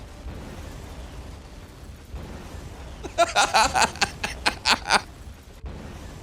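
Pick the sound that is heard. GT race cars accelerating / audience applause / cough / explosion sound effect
explosion sound effect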